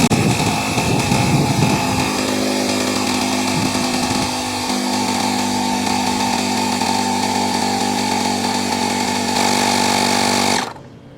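A ShockFlo rechargeable portable air compressor runs steadily and loudly while inflating a tire to 26 PSI, a continuous buzzing motor drone with a strong hum, lasting about ten seconds before cutting off abruptly at the end.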